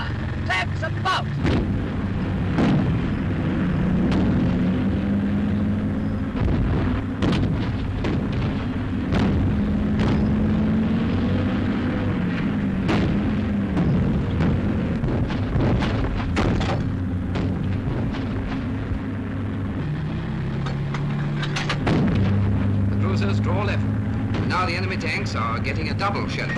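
Artillery shelling booms repeatedly in a tank battle scene from a British war film, sharp explosive bursts scattered over a constant rumbling engine drone, with voices talking throughout.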